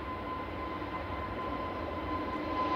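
EasyJet airliner departing Manchester Airport, a faint steady distant engine roar with a thin tonal whine, no voices.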